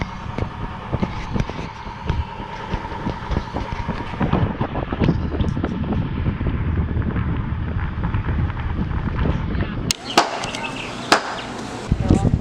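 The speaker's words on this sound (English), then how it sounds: "Really windy out." Strong wind roars steadily across a microphone outdoors beside a sailboat at an anchorage near town on the Intracoastal Waterway, with bursts of louder gusts and water chop near the end.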